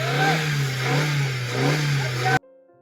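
A car stuck in snow during a snowstorm drive near Shimla revs its engine hard in repeated surges, a loud droning strain that cuts off abruptly near the end, leaving a faint low hum.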